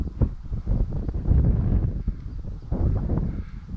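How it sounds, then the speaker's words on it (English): A gust of wind buffets the microphone outdoors during fly fishing with a dapping rod, a continuous low rumbling roar that swells and eases over several seconds. "Bit of a stronger gust there."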